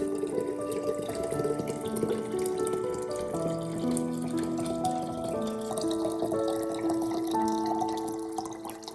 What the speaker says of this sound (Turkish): Üzerine 2 litre su ekliyorum.